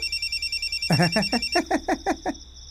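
A mobile phone rings in a Hindi-dubbed action movie scene, a bright repeating electronic ringtone in short rhythmic bursts, loud and close against a quiet background.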